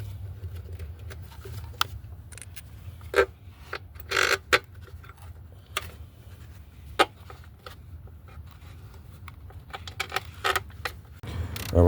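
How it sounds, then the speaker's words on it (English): Three small bolts dropped by hand into the upper intake plenum of a 2007 Hyundai Sonata 3.3L, giving scattered metallic clinks and rattles at close range between quiet handling noises, with no talk. "those 3 bolts that I just dropped down there"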